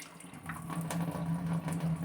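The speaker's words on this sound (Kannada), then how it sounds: "ಒಂದು ಕೈಲಿ ನೀರು ಬಿಟ್ಕೊತಾ ಇದ್ದೀನಿ" Tap water runs steadily into a sink while rice is rinsed, a close, continuous splashing rush with a faint low hum underneath and no talking.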